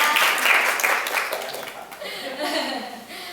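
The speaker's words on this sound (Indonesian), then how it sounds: "Yeay, tepuk tangan dulu buat kita ya." Brief clapping and cheering from a classroom group of teachers or students during a school workshop session, with light laughter mixed in, fairly near and fading over about three seconds.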